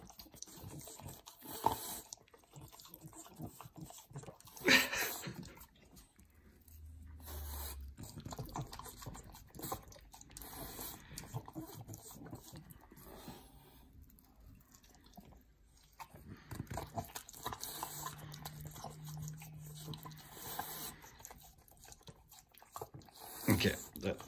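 A dog chews and eats food, with close, irregular wet crunching and biting sounds that carry on throughout, over faint background noise and occasional soft movement.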